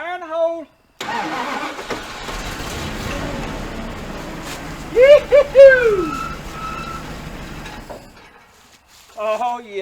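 Starter cranking and engine of a 1979 Dodge D300 truck abandoned for over 20 years, turning over briefly then catching and running with a rough mid-pitched rumble, while someone talks over it near the end.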